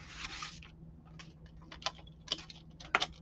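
Paper for a notebook cover is being cut, giving a quick series of close, crisp snips and rustles in an irregular rhythm.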